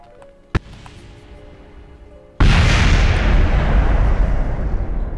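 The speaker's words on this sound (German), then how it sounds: "Jetzt kam die Explosion." A loud explosion in the video game Kerbal Space Program, heard as a sudden sharp blast followed by a sustained, roaring rumble, preceded by a quieter engine hum and a single brief click.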